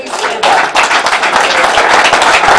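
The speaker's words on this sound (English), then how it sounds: "So, special round of applause." Applause for parents standing at a school board meeting in a hall, a steady clapping wash that swells after a brief softer start and carries on loudly for a few seconds.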